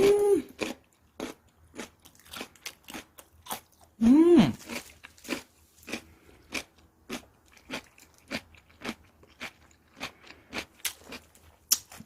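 Someone bites into crunchy, freshly made whole-cabbage kimchi with salted radish and chews it, giving sharp repeated crunches in a steady rhythm close to the mic, with a brief vocal sound early on.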